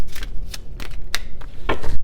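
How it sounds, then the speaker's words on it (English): Tarot cards are shuffled by hand close to the mic in a series of quick riffling bursts, about six crisp rustling strokes in a loose rhythm, with no talking. "One more shuffle."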